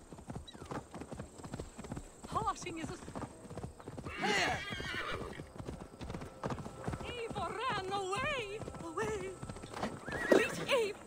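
Hooves clip-clop in a steady rhythmic gallop while a horse whinnies loudly, and voices shout over the hoofbeats, in Assassin's Creed Valhalla.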